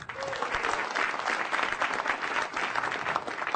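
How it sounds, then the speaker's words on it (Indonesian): A large audience at a televised stand-up comedy show claps in sustained, dense applause, loud and continuous throughout with no talking over it. "Sekali lagi tepuk tangan dulu untuk apresiasi film Indonesia."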